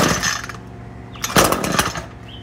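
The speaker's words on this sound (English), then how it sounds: "Prime this, fully choke it. I'm gonna give it full throttle." An Echo PAS225 two-stroke engine is started cold on full choke and opened to full throttle, producing a harsh buzzing roar that surges and rises in pitch, with no talking.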